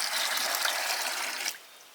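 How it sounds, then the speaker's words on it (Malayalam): Two litres of water gush into a bucket in one steady, close pour lasting about a second and a half before stopping abruptly. "ഇനി നമുക്ക് രണ്ട് ലിറ്റർ വെള്ളം ഇതൊഴിച്ചു കൊടുക്കാം രണ്ട് ലിറ്റർ വെള്ളം ചേർക്കുകയാണ് കേട്ടോ"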